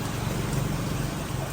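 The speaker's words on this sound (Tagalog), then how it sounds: "Grabe, lakas pa rin ang ulan." Heavy rain pouring down near a bridge, a dense steady wash of hiss and patter, moderately loud and unbroken, with no voices.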